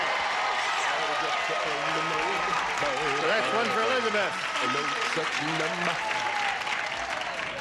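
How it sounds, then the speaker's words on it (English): Studio audience cheering and applauding on a Match Game-Hollywood Squares game show, a loud continuous wash of clapping and cheers under which someone talks. "Now they're cheering, aren't they?"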